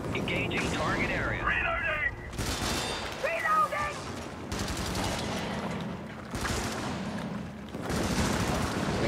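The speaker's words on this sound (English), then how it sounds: "I might do an incendiary behind us here" Incendiary strike landing on a target area in a video game, bursts of rapid crackling fire and booming impacts rolling in waves, loud and dense, with a voice talking over the barrage.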